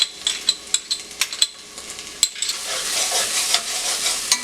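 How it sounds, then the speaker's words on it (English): Spices and tomato ketchup sautéing in a pan for chitol fish muitha, with sharp spatula taps and scrapes at first, then a rising steady sizzle close by. "Saute for a few minutes."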